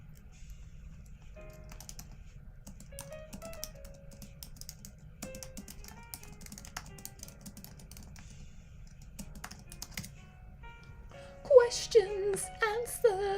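Light, sparse clicking from a Bluetooth computer keyboard, faint and intermittent for most of the stretch, with a closer burst of other clatter near the end.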